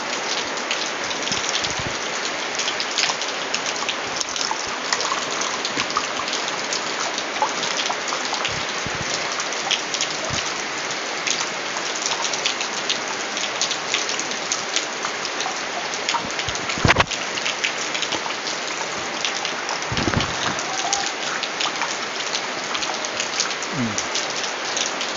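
Steady heavy rain falling and pattering on surfaces, a dense continuous hiss through the whole stretch, with a few brief louder knocks and splashes standing out; no voices.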